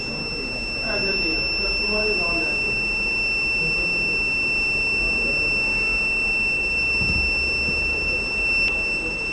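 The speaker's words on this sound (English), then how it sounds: "it will be give a buzzer alert" A steady, high-pitched electronic buzzer tone from a transformer monitoring system's high-voltage alert sounds without a break over a noisy background with faint voices.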